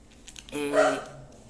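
A single short, faint dog bark or yelp rises briefly out of quiet room tone, alone without talk.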